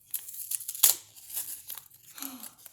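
Paper surprise packet torn open, with crinkling and a sharp rip burst near the middle, followed by softer rustling and handling of paper; close and fairly quiet.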